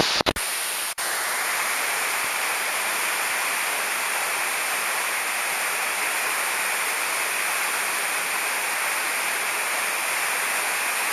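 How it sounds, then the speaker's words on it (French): Small waterfall at the foot of a ravine, a steady, loud broadband rush of falling water that continues unbroken throughout, with a brief knock or handling thump near the start. "Au pied de la petite cascade."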